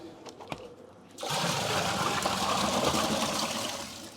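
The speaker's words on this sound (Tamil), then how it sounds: "இப்போ ரெண்டு குடம் ஊற்றிருக்கோம்" A second potful of water is tipped into an open cement guppy tank: after a second of quieter handling sounds, a loud, steady gushing splash begins and runs on up close.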